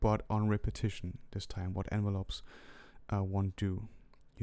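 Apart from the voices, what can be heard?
No everyday noises stand out.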